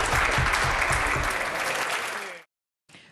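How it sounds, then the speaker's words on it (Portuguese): Members of the UK House of Commons applauding Speaker John Bercow, a dense sustained roar of clapping that fades out before a brief cut to silence. "Bercow agradeceu as palavras e fez que não ouviu os aplausos"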